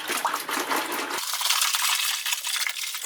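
Sourdough starter is stirred with water in a container, giving a continuous wet, gritty scraping and sloshing sound up close.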